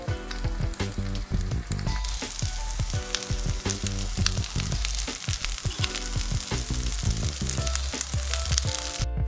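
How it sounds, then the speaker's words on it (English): A big rice and vegetable pancake topped with mushroom and flowers fries steadily in a pan, giving a loud, continuous sizzle and crackle, with frequent sharp clicks and pops and no voices. "we're now actually cooking this whole big pancake, which is made of rice and then some vegetables"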